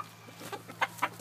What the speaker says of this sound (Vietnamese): Gà Peru.